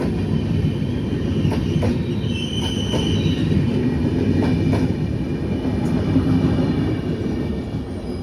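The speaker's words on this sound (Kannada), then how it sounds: "ಈಗ ಟ್ರೈನ್ ಸೌಂಡ್ ಕೇಳ್ತಾ ಇದ್ದೀವಿ ನಿಜವಾಗ್ಲಂದ್ರು" A Chamarajanagar–Mysuru–Tirupati express train rumbles steadily along, with a low continuous roar and faint metallic squeals and clacks over the top, fairly close and loud throughout.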